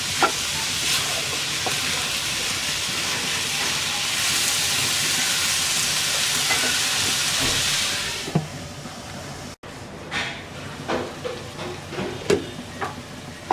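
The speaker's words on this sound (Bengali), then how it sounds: "এবার ডালটাকে পাঁচ মিনিট কষিয়ে নেব মিডিয়াম লো আছে" Khesari dal being sautéed and stirred in a pan over medium-low heat, a continuous frying hiss for about eight seconds, then quieter intermittent scrapes and taps of the spoon against the pan.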